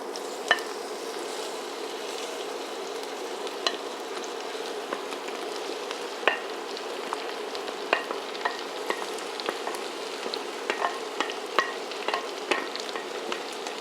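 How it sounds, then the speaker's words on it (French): Onions sizzle in hot oil in a frying pan, a steady crackling fry with scattered sharper pops and spits, close and alone without talk. "Je vais mettre mes oignons dans la poêle."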